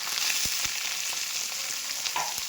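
Chopped onions hiss and sizzle steadily in a hot pan, with a few soft stirring knocks over the continuous close frying crackle.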